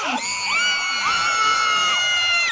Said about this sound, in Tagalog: Kung sino yung may pinakamalakas sa sigaw, na Kuya Hagis to.